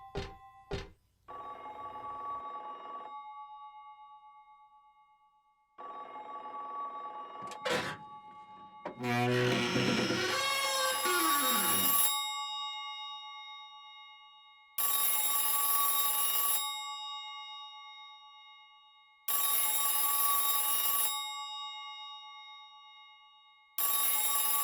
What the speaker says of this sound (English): Somewhere from one of these stalls, there is what sounds like a telephone ringing.